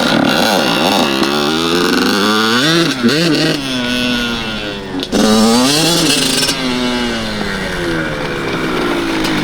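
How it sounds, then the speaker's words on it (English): A cheap secondhand dirt bike engine revs hard while being ridden, rising and falling in pitch through repeated throttle bursts, loud and close throughout. "there's definitely something wrong with your bike, because this thing is walking away from your bike"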